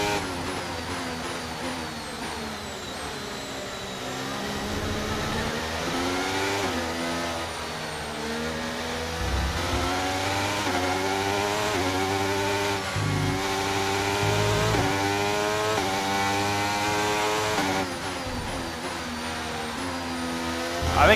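Race car engine in a racing video game at an Australian circuit, sliding around: a continuous high-revving whine rising and falling through gear changes and accelerations, loud and steady throughout.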